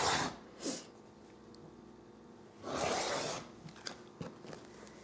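A rotary or scissor cut through quilt fabric strips laid along a ruler gives a couple of quick, close crisp swishes, with small handling taps and rustles between them in a quiet room.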